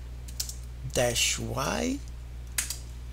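A few crisp keystrokes click on a computer keyboard, with a short burst of a person speaking in between.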